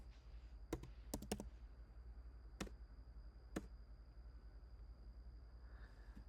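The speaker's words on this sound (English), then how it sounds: "We confirm the plan by typing yes" Several sharp keystrokes on a computer keyboard, a quick cluster of taps followed by two isolated presses, close and quiet over a steady low room hum.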